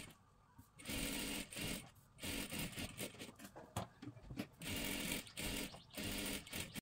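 A sewing machine stitches tucks on a dress in a few close, loud bursts separated by brief pauses.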